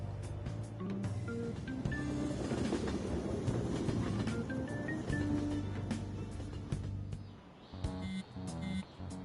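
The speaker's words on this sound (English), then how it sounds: "Oh, the train's going to get going then." A train in a Persona video game gets under way, a steady rumbling roll with rhythmic clatter and metallic screeches, loud and continuous before thinning out near the end.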